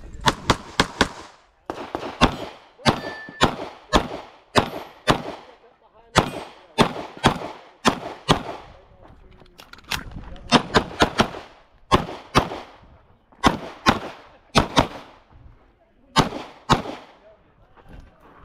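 A Walther P99 Final Edition pistol fires at steel targets in a USPSA match, sharp cracks in quick pairs and clusters with short pauses between strings, loud and close.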